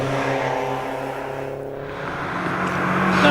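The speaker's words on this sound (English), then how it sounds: "Yes, and this Seat Cupra. It is a Leon Cupra R." A Seat Leon Cupra R at a Shelsley Walsh hillclimb, engine droning steadily under load as it accelerates, the tone shifting with gear changes and swelling louder toward the end.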